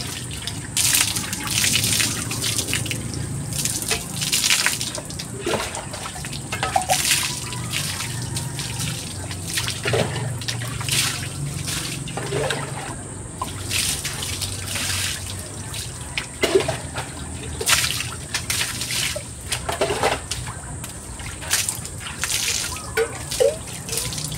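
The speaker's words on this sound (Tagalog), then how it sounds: "Babandawan naman natin para matanggal yung mga sabon, yung mga dumi." A water hose rinsing soap and mud off a mountain bike, a continuous splashing spray with irregular bursts and drips as the stream moves over the frame.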